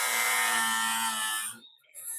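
Grinder working on the metal roof of a classic car, a loud high whining grind lasting about a second and a half, then cutting off before a brief softer resumption.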